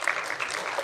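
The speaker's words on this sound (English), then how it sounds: "We should give them a round of applause on that one" Brief burst of audience applause at a community development grant review meeting, a dense patter of clapping hands heard close and fairly loud for under a second.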